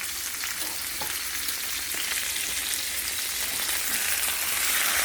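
Steaks sizzle hard in a pan with beef tallow, a dense, loud, continuous crackle and spit throughout with no talk.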